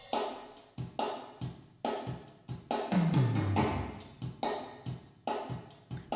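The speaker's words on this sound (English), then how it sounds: "I decided to also add a plate reverb using the same plugin" Acoustic drum hits played alone with a bright, smeared plate reverb wash trailing each strike, a sustained low tone swelling in the middle.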